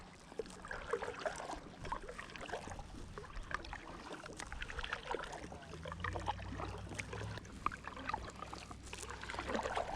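Kayak paddle strokes dip and pull through the water of Pennington Lake, a Cuyuna mine pit lake, in a loose rhythm, with soft splashes and drips nearby, low wind rumble underneath, no talking.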